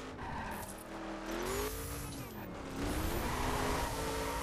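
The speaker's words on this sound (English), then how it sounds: "Wow, that car is fast. That's some beefy American muscle right there." An American muscle car races in the video game The Crew. The loud engine revs climb and dip in pitch through gear changes, with tire squeals and whooshing passes close by.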